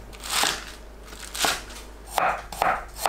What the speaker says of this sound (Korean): 알배추를 반 자르고 길게 썰어주세요